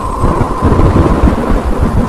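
A stormy cartoon sound effect for a Bengali ghost story: a loud, close, continuous low rumble of thunder rolling under heavy wind-driven rain, with no speech.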